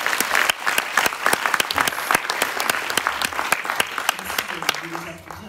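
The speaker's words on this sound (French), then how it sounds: "Je vais les applaudir" A studio audience at a French news broadcast claps for guests, a run of crisp, close hand claps in fairly quick succession that thins out near the end as a voice begins.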